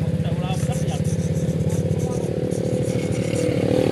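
A motorcycle engine idles with a steady low, pulsing rumble as it is backed up during a rice harvest, with people talking over it throughout.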